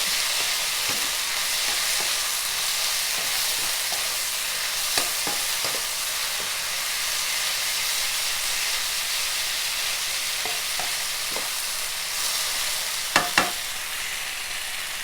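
Vegetarian yellow noodles being stir-fried as yakisoba, a steady loud sizzle throughout with scattered clicks and scrapes of a utensil against the pan, a couple of sharper knocks near the end.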